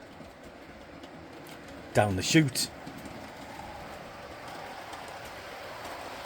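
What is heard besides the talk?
model train running on a layout track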